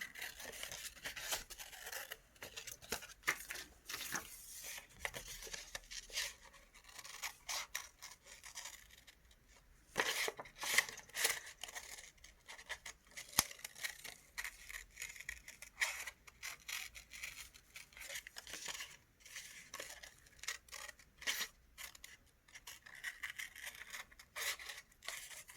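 Scissors cut out a paper drawing of a bird with steady, quiet, close snips and rustling paper, in irregular bursts with brief pauses, carrying on for some time without speech.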